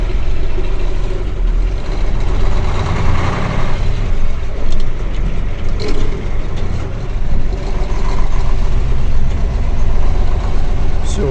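A KAMAZ truck engine runs through a winter setting, a steady low diesel rumble that swells slightly as it moves off, loud and close throughout.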